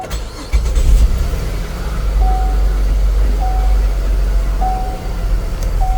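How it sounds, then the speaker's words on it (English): A car engine that is not running at its best catches and settles into a rough, steady idle, a loud, close rumble that continues throughout with no talking. "I got the car to start. Y'all listen to it."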